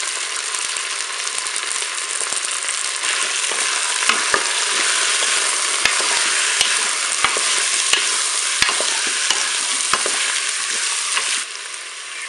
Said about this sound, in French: Puis à 4 minutes de fonction dorée, je vais ajouter les morceaux d'oignon.